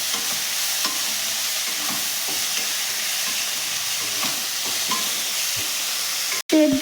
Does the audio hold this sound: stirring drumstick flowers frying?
yes